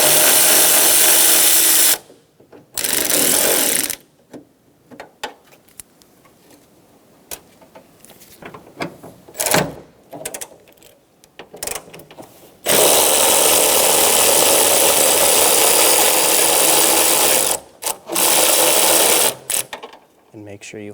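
Power tool backing out two 10mm bolts from a 2012-2016 Subaru Impreza side mirror, loud close whirring bursts starting and stopping several times, with quieter handling noises between.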